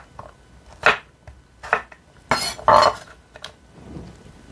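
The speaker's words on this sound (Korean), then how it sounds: "무는 반을 가르시고 나누신 다음 납작하게 썰어 주시면 되고요" A knife chops radish into flat slices on a cutting board, giving several sharp, irregular knocks close up in a quiet kitchen.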